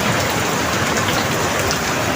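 Heavy rain pours steadily during a cyclone storm, a dense, even hiss of drops drumming on surfaces with no break and no voices.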